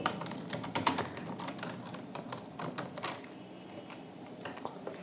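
Fingers type on a computer keyboard while entering text into an Excel spreadsheet, a close run of quick light key clicks with brief pauses, with no one speaking.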